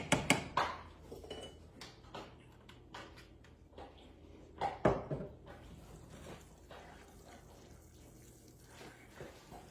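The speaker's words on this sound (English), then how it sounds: "I'm just gonna stir that till it's nice and smooth" A spoon clinks and scrapes against a metal pot while no-bake cookie batter is stirred until smooth, irregular close knocks and scrapes with soft wet sloshing between them.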